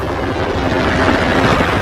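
A helicopter in a war film roars in a dense, steady wash of rotor and engine noise, loud and continuous for the short stretch with no speech over it.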